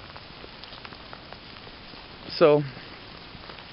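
Light rain falling outdoors while someone walks, a soft, steady patter close by. A person briefly starts to speak over it.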